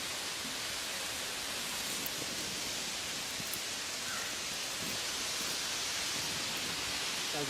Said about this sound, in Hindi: ले भाई फिर बारिश.